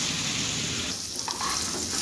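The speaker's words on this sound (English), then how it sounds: "Frying the cashew nuts very little." Cashew nuts fry in butter in a kadhai with a steady, close sizzle and a soft stirring scrape midway.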